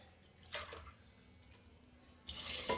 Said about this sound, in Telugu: ఇంకొక గ్లాస్ వాటర్ అయితే వేసుకుంటాం